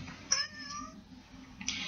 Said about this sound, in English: This is my kitten, George.